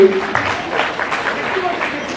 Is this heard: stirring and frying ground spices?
no